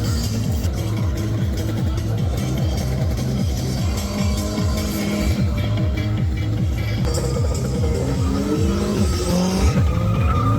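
Engine revving hard and tires squealing as a car drifts around a cone course at King of the Cone, closely followed by a chase car, with loud continuous engine roar and screeching rubber throughout.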